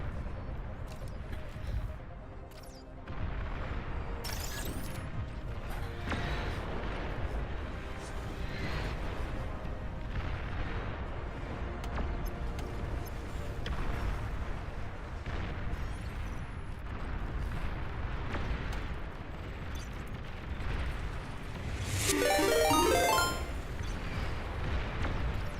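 Long-range plasma cannon fire in the strategy game Beyond All Reason, a sustained low rumble of distant booms and battle noise with a brighter crackling burst near the end.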